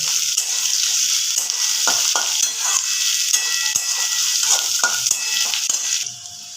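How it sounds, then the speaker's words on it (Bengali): Cashew nuts frying with ginger-garlic masala in a pan, a bright continuous sizzle with scattered spoon clicks and scrapes, steady and close until it drops away at the end. "এই পুরোটাকে আমাকে একটু ভালো করে ভেজে নিতে হবে"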